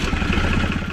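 A farm tractor's engine chugs close by with a rough, uneven rhythmic pulse, loud and alone, with no voices.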